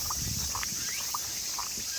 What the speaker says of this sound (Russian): Слышите, да, птички поют?